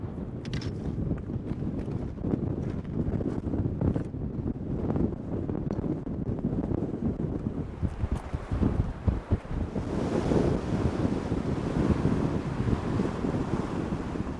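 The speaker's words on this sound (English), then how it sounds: "It was so windy" Strong wind on a mountain pass buffets the microphone in a continuous loud roar, gusting and rumbling throughout with no voices.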